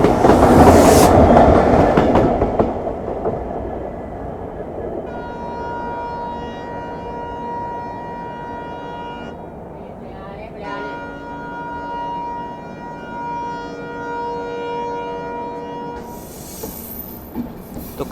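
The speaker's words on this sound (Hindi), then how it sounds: "तो कंचनजंगा एक्सप्रेस के साथ क्रॉसिंग के साथ हम लोग निकल रहे हैं अब यहाँ से, न्यू हरिगंजाव स्टेशन से" Humsafar Express train running through Assam, a loud rumbling roar at first settling into a steady rolling drone with a long whistle-like tone sustained throughout and faint clatter, a louder burst near the end.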